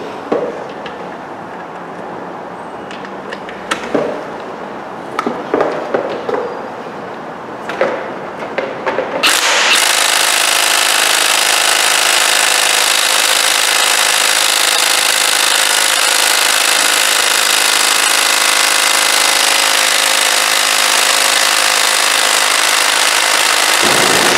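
An Ingersoll Rand 3/8-inch cordless impact wrench, fitted with an extension, hammers steadily on a stubborn engine head bolt; after several short bursts it settles into one long, loud, continuous rattling run, close to the microphone, with no talk.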